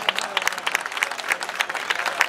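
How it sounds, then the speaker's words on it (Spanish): Steady applause from a crowd at a Maspalomas Gay Pride pageant, dense clapping throughout with no pauses, fairly close and lively. "Un fuerte aplauso para él, hombre."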